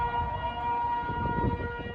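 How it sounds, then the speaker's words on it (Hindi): Tsunami warning sirens in Japan wail in a steady, sustained tone across the whole stretch. A low rumble of outdoor noise sits beneath them. "जापान में तो लोगों के दिन का आगाज़ ही सायरन की आवाज़ों से हुआ"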